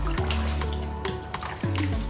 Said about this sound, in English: We add some water to it because we're going to add the egusi now.